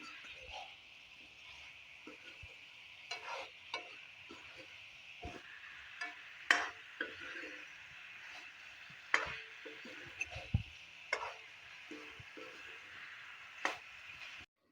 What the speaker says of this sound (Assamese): এয়া এতিয়া আপুনি মছলাখিনি মিলাই লৈ অলপ সময় ভাজিম